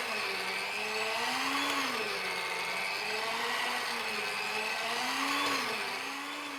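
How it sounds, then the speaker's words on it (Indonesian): An electric mixer kneads pumpkin donut dough at high speed with a continuous whirring motor whose pitch rises and dips as the dough drags. It is steady and moderately loud, with no talking. "Setelah itu naikkan speednya dan mixer sampai kalis elastis."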